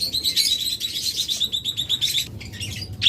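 Many caged yellow pet birds, lovebirds or budgerigars, chirp continuously at a busy bird market, with dense overlapping high tweets and some nearby rustling and flapping.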